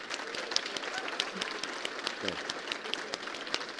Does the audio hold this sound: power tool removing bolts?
no